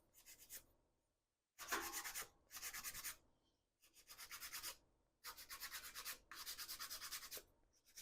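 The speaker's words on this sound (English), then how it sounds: "I'm simply just going to come back with some, again, my 220, just to sand off all that kind of glue, to smooth it down." Strokes of 220-grit sandpaper rubbing dried glue off a plastic scale model kit part, coming as five or six raspy bursts, each about a second long, separated by short pauses, close and clear with no talking.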